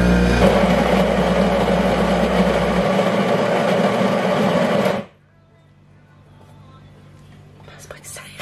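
Home coffee machine running, a loud steady buzzing and whirring hum that stops abruptly after about five seconds, followed by quiet room noise with faint soft sounds.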